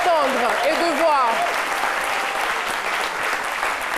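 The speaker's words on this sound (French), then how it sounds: "ces applaudissements ne sont pas suffisants pour ce qu'on vient d'entendre et de voir" Dense audience applause after a stage performance on a TV show, loud and continuous, with a voice and some whoops over the first moments before the clapping carries on alone.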